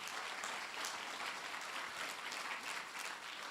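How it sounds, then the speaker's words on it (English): A crowd applauds steadily at an XR industry awards ceremony, a dense wash of clapping heard from within the room. "Big round of applause for where we are tonight."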